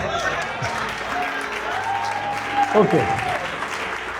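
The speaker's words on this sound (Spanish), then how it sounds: "Puedo presumir por su aplauso que usted me va comprendiendo la idea" Church congregation applauding during a sermon, a broad wash of clapping under an amplified preacher's voice, swelling briefly near the end.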